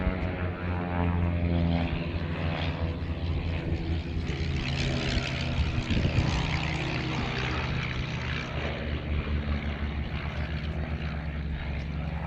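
A 1945 Auster Autocrat propeller aircraft flies at the Duxford air show, its engine droning steadily and fairly loud for several seconds with a slight swell midway.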